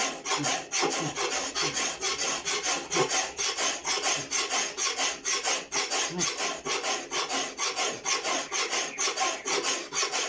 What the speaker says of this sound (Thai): ต้องตะไบให้เรียบก่อน